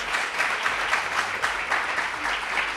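Steady applause from a crowd, dense clapping that holds at an even level throughout with no voices over it.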